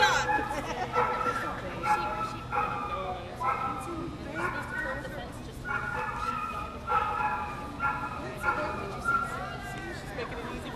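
Herding dog barking near a fence at a sheep herding demonstration with sheep eating: repeated loud barks and yips in rapid bursts throughout, with people talking over them.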